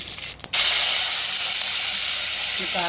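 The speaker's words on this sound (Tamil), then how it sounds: "கடுகு சேர்த்துக்கலாங்க" Mustard seeds dropped into hot oil for tempering a street-shop style tomato chutney, giving a sudden loud hiss and sizzle that starts after a brief clatter and holds steady and close throughout.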